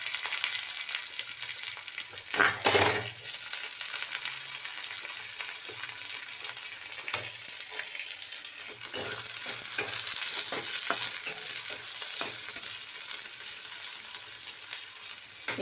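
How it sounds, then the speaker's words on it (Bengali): Chopped onion goes into hot oil where garlic has been frying, giving a steady sizzle. A sharp burst of sizzling and stirring comes early, then continuous frying noise throughout. "এবারে দিয়ে দিলাম পেঁয়াজ কুচি।"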